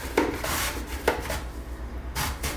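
Apples being sliced on a mandolin slicer for dehydrated apple slices, giving a few sharp scraping strokes, close and fairly loud, with a steady low hum underneath.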